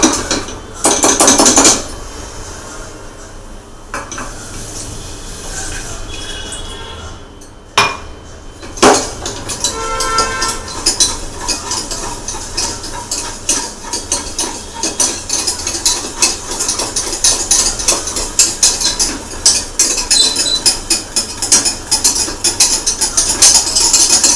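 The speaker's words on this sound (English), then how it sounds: "Keep stirring the sauce" Metal utensil scraping and clinking against a pan while béchamel sauce is stirred, a steady busy stream of taps and scrapes with a few sharper knocks, close by and without talk.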